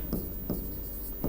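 Pen strokes on paper during a Hindi literature lesson, three short scratchy bursts spaced about a third of a second apart, close and moderately quiet over a faint room background.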